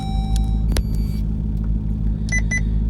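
Car engine idling with a JLT intake installed, a steady low rumble throughout with a few short electronic beeps near the end.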